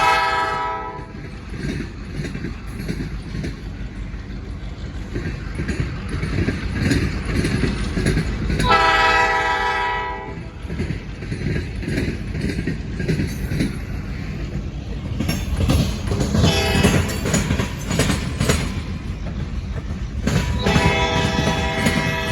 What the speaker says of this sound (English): So a short train that had to wait a real long time.